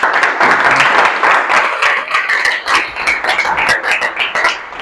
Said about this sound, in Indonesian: Aplaus untuk kita semua dulu.